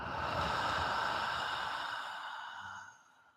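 A single breathy exhale, long and slow, follows a deep breath in and trails off softly over about three seconds, close to the microphone, with no talking.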